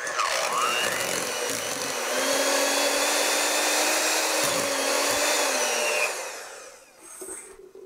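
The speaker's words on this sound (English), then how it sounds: "So I'm just using a handheld mixer." A handheld electric mixer whips softened cream cheese with a steady, close whirring hum and a faint beater rattle, changing pitch slightly as it runs, then winding down near the end.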